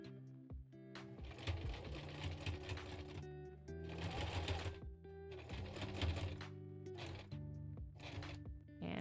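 A sewing machine stitches cosplay fabric, running a back stitch in several whirring bursts separated by brief pauses, close and steady with a rhythmic mechanical hum and clatter, no voices.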